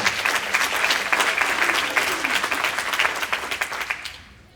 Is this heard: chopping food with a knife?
no